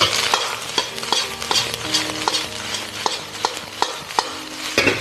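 Cooked rice being stir-fried over high heat with soaked dried scallops added, a loud sizzle broken by repeated sharp scrapes and clinks of a spatula against the wok in an uneven rhythm.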